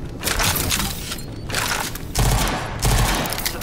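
Shotgun blasts in the video game Rage 2, several heavy booming shots in quick succession with brief pauses between bursts, loud and close without speech.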